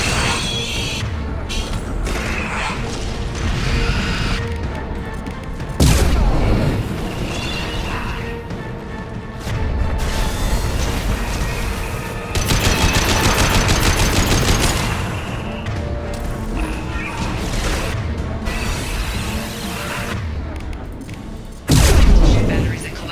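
Anti-ship batteries firing in Mass Effect 2 as heavy repeated blasts and booming bursts. They come in several loud waves over a continuous backdrop of game noise, with voices speaking at times.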